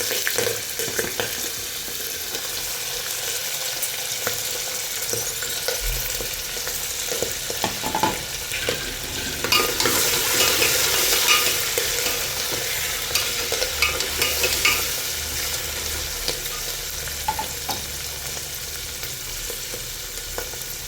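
Green chili, peanuts, peas and potatoes sizzle steadily in a hot pan while a spoon scrapes and stirs through them, close and continuous with faint clinks, no voices.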